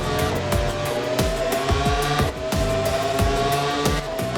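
Motorcycle engine on a PS2 MotoGP 08 race accelerating hard, a buzzing, rising whine with repeated gear-change stutters roughly every half second, loud and steady with no talk.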